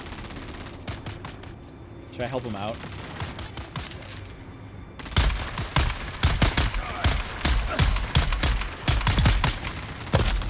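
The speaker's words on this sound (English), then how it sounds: "I hear gunfire." Rapid bursts of gunfire in the video game Dune: Awakening crackle in uneven volleys, loud and close, after a quieter stretch where someone speaks.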